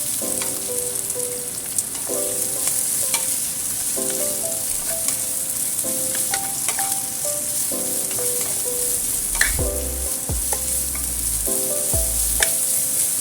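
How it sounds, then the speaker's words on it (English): Celery stir-fries in a wok with a strong, continuous sizzle and hiss, broken by regular rhythmic scraping and clanking of a spatula against the metal, close and loud throughout. "Then add in celery. Stir fry."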